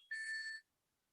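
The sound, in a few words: phone ringtone of an incoming call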